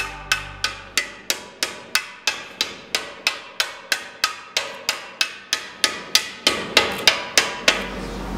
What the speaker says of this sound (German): Mit einem flachen Hammer wird der Harnisch in Form geschlagen.